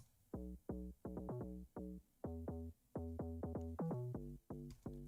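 A rounded slap house synth bass line repeats short plucked notes in a steady, bouncy rhythm, loud and close with no other sounds.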